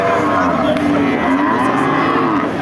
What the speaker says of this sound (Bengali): বাছুর সহ গাভী